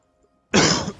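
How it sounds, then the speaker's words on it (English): A single harsh cough from a sick person right up close, loud and abrupt after a moment of near silence. "Sorry if I cough, I'm kind of sick."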